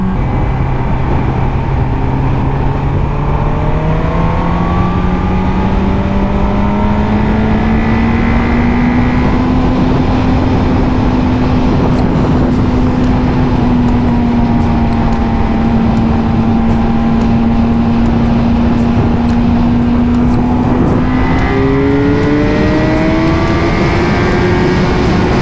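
A Suzuki GSX-R 1000 sport motorcycle accelerates hard on a German Autobahn, its engine note climbing steadily and holding a loud, continuous high-revving drone through the whole stretch, with wind rush beneath.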